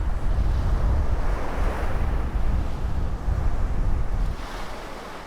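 Sea waves surge against the shore of Songji Lagoon on Korea's east coast in early June after heavy rains, a steady loud roar of surf with wind noise and no talk.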